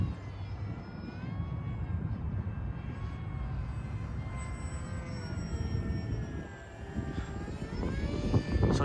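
A small RC airplane with a 745 prop flies on a windy day, its motor a steady high whine with shifting pitch heard from a moderate distance, continuous and fairly quiet with wind rumble underneath.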